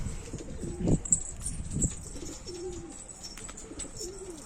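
A posta pigeon coos softly and close by, giving a few low burbling calls in a quiet space with faint background hiss, with no talking.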